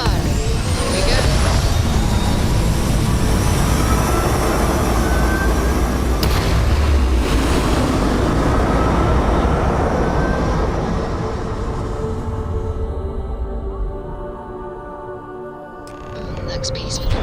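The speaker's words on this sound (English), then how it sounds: "Engines firing." Spaceship engines fire in the Starfield video game: a loud, continuous, broadband roar with deep rumble that holds steady for most of the stretch, then eases slightly near the end.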